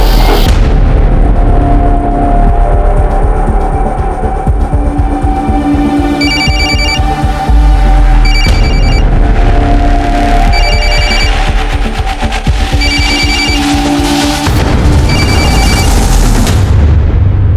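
A phone ringing in bursts of repeated electronic ring tones inside a house during a police search, loud, with several ring cycles and no talk over them.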